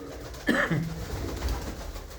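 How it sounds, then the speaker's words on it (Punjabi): A single soft pigeon coo, low and throaty, rising briefly over a steady outdoor background hum, with a faint tonal call near its start. "ਹਰ ਤਰ੍ਹਾਂ ਦੇ ਕਬੂਤਰ ਆ"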